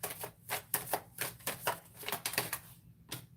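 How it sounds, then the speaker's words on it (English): Tarot cards being shuffled by hand, a quick uneven series of close crisp riffling snaps and taps, with no talk. "so you guys can see me continue to shuffle"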